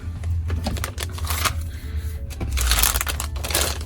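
Cardboard box bottom being cut open to free small bears, a steady scratchy crackle of blade through corrugated board, close and continuous with brief bursts and pauses.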